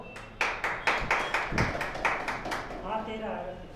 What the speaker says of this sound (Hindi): खुशी के लिए 3-4 तालियां हो जाए जोरदार